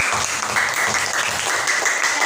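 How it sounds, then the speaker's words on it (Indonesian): Lively applause fills a classroom as students clap for a classmate, a dense, steady patter of many hands lasting throughout. "Sekarang beri tepuk tangan yang meriah kepada teman."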